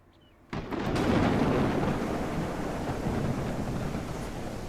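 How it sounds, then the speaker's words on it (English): A summer thunderstorm in the survival game No One Survived bursts in after a half-second of quiet, becoming a loud, dense rumbling roar of thunder and rain that holds steady and slowly eases, with no talking. "We've got a storm."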